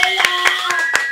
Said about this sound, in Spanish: Un aplauso también para Maquita